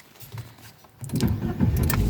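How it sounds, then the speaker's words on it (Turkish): A Fiat Egea Cross car engine cranks and catches, a soft rattle first and then a loud, steady low idle rumbling close by after about one second. "Şimdi debriyaja basarak arabanı bir çalıştıralım."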